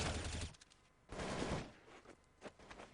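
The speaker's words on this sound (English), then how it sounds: "Shot rattled off by Guardian down to the right" Automatic gunfire in Counter-Strike (CSPromod) on de_nuke during a competitive match, heard as a short rattling burst followed by a second burst and a few scattered shots.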